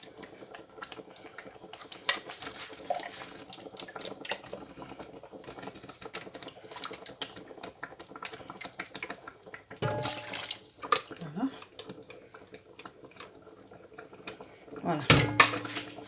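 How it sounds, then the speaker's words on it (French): Leftover juice swirled around inside a blender jar to rinse it while making a Congolese-style bouillabaisse, with running-water sloshing and clinks of kitchenware, plus a louder burst of rinsing and clatter near the end. "Je vais utiliser pour rincer correctement le blender."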